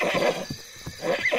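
Shy wild horses neighing, two close whinnies bracketing a short pause with faint hoof sounds, no voices over them.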